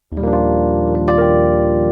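A sustained electric piano chord with a shimmering, swirling chorus effect, ringing out clearly and close with no talking.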